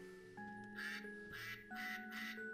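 A duck quacks in four raspy bursts, one after another, over a steady backdrop of soft electronic tones.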